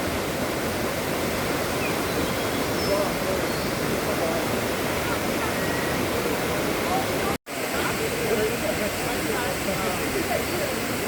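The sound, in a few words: waterfall on Mount Emei, Chengdu, China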